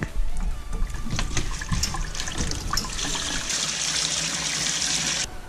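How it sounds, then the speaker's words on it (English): Cactus pad rinsed under cold running tap water to strip away the last fibres, a steady broadband rush of flowing water with splashing that continues through the whole stretch, fairly close and loud. "we're going to run it under some cold water to get the last of the fibres off it"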